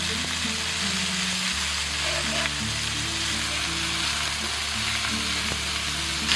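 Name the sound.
marinated beef frying on an iron griddle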